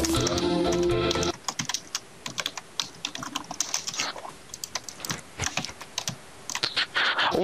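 A computer keyboard is struck hard in fast, uneven bursts of sharp clacks, close and loud, after a short stretch of music or game sound.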